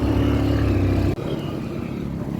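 A motorcycle engine labours through deep desert sand dunes, a loud, close, droning rumble that shifts abruptly partway as the load changes.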